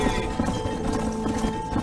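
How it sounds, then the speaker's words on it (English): Galloping horses in the Red Dead Redemption video game, a steady clip-clop of hooves with occasional whinnies beneath continuous game music and shouted voices. "Control that horse, will you?"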